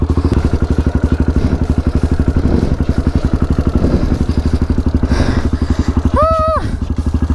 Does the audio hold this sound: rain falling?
no